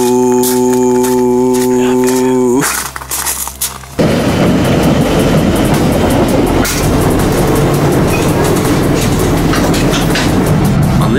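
A passenger train heading to Glasgow: a horn-like tonal sound first, then a loud rumbling interior roar with rhythmic clacking over the rails, continuous and close.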